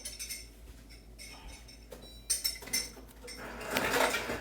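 Ice being dropped into a cocktail glass, light scattered clinks and taps of cubes against glass, faint and close, with a louder rattle toward the end.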